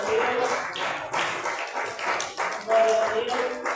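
A church congregation at a prayer consecration service claps hands in praise, several uneven bursts of clapping at close range with voices mixed in.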